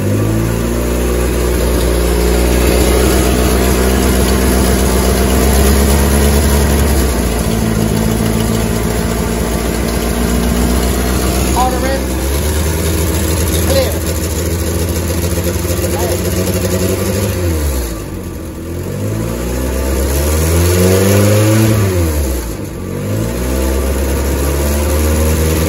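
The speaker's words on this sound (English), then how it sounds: "Laura, just give it a gentle rev, not too much, just constant." A 1988 VW Polo MK2 breadvan engine with its automatic choke still on, idling steadily and lifted into gentle, sustained revs several times. The engine note runs loud and close throughout, with people talking over it.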